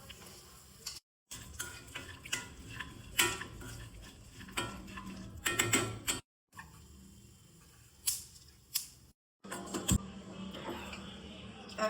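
Black and brown raisins and dry fruits roasting in a pan, with a spatula scraping and tapping the metal in scattered close strokes, broken by a few brief silent gaps.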